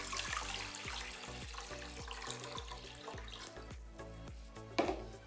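Water is poured steadily into a pan to start a cake-soaking syrup, a faint continuous splashing pour in a kitchen with no voices over it.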